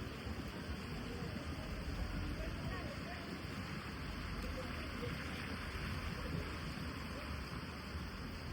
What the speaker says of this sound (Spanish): Lloviendo, frío, viento.